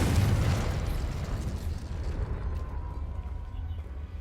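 A Confringo spell explosion in the video game Hogwarts Legacy bursts loudly at the start with a deep boom, then a rumbling tail decays steadily over several seconds.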